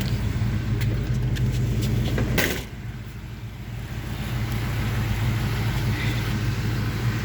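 A 1975 Chevy C10 pickup truck driving around the block, with a steady rumbling engine and road noise, a brief loud clunk partway through, then a smooth continuous drone.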